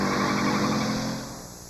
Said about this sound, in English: there's something about a fuel-injected, turbo-powered Dodge Daytona Shelby that'll blow you away